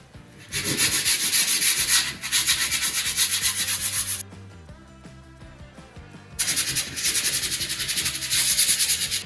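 Bursts of rough, scratchy sanding against a mouldy ceiling, steady back-and-forth rubbing with a brief pause midway, close and fairly loud, no talking.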